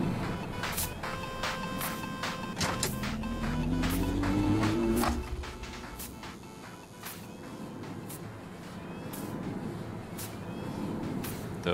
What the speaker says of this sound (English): What is that sound? Oh, the wind turbine thing.